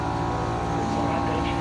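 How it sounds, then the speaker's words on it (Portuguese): A Honda Bros 160 motorcycle engine with a noise fault runs steadily at close range, its continuous low rumble filling the whole short stretch. "Barulho no motor."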